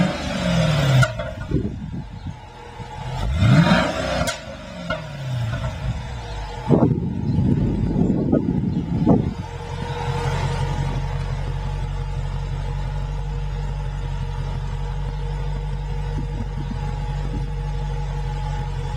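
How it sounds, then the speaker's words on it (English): A 2010 Dodge Challenger SRT8 with stock exhaust cranks and fires up with a loud revving roar, then settles into a steady, deep rumbling idle that continues to the end. "this is a 2010 Challenger, stock SRT8, stock exhaust. This is going to be startup"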